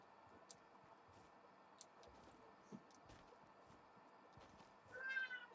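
A cat gives one clear meow near the end of a quiet indoor stretch, with faint ticks and clicks scattered before it.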